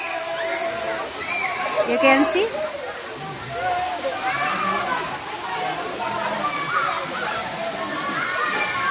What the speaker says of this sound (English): this place is called Curug Konde and the same as Konde waterfall.